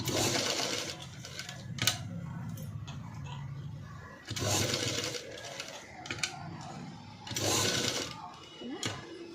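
A sewing machine runs in three whirring bursts while stitching along the buckram edge of a padded blouse, with short pauses between runs.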